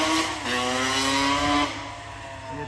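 A two-stroke Suzuki motorcycle engine revs hard, its pitch climbing and then dropping as the rider eases off, with a loud, steady mechanical whine throughout.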